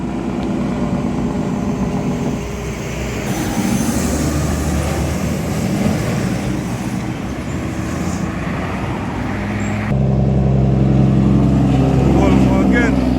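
A Volvo truck rumbles past with steady engine and road noise, a shift in tone partway through and a louder, heavier drone toward the end.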